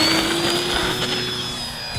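An Eleven Hobby T-28 Trojan RC warbird taxis on grass, its electric motor giving a steady high-pitched whine with a faint buzzy drone, close and loud and continuous, with no talking.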